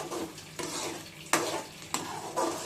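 Tomato masala for prawn curry frying in oil in a pan, a steady sizzle broken by a few scraping stirs and sharp clinks of a utensil against the pan, close and without speech.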